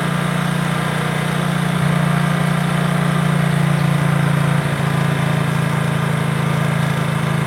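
A small engine runs steadily near the microphone during carburettor mileage tuning, holding around 3000 to 4000 rpm with a loud, even hum and only slight shifts in pitch.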